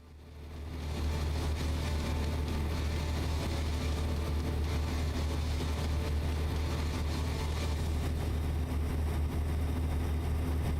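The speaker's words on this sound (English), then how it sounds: "This Jake brake and motor just don't sound right." Heavy truck engine with a Jake brake in a trucking video game, hauling a livestock trailer; a steady, loud low-pitched drone and rumble fills the whole stretch with no talking.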